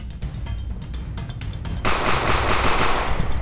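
Rapid automatic gunfire in the video game Sneak Thief, a dense run of shots that swells into a louder, continuous burst partway through, loud and up close with no talking.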